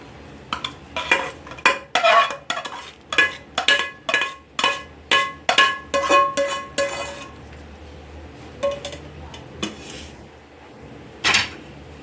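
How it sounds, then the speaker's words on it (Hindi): A sticky dry fruit chikki mixture of cashews and almonds is scraped with a spoon into a greased tray, giving a run of about fifteen rhythmic metallic scrapes and clinks over six seconds, then a few sparse knocks and one final clink. "अब ये चिक्की मैं इसमें डालूँगा।"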